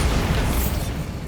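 A Bombarda explosion spell goes off in Hogwarts Legacy: a loud, dense blast that fills the clip with a rumbling low-end boom and crackling debris, steady for about a second before thinning out.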